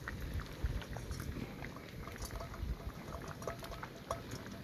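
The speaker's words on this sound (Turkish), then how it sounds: "Daha hafif kaynamalarla su çektirme operasyonumuza başlamış bulunmaktayız." A soft, continuous bubbling patter of vegetables simmering in a pot over a wood fire, steady and fairly quiet with small pops throughout and no voices.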